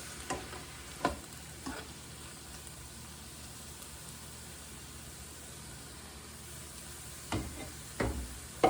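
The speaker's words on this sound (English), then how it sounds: "Saute it in some butter." Napa cabbage sautes in butter in a pan, a soft continuous sizzle with a few scraping stirs at the start and end, faint and close.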